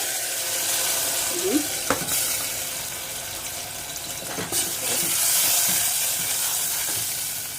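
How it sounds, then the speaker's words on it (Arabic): Tomato sauce with vinegar and garlic sizzles steadily in hot fat in a pan for Egyptian fatta, a constant frying hiss with a few light clinks and stirring noises over it. "احلى حاجه في الدنيا صوت الطشه دي"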